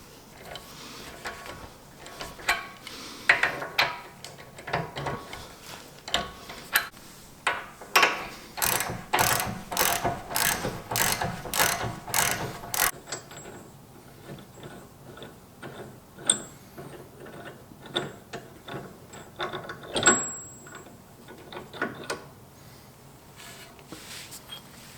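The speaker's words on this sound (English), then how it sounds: "I gotta find a wrench to hold this one on the back" Ratchet wrench turning bolts on BMR billet aluminum vertical links, a run of rapid clicking strokes in bursts, loudest in a fast regular series near the middle, close up and without talk.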